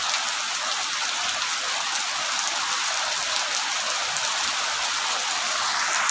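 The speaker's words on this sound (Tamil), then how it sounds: "மழை பெய்யுது எங்கள் ஊரில்" Steady rain pours down on Sengurichi village in Pandiyanur, a dense, even hiss of drops hitting surfaces that holds at the same level throughout, with no voices.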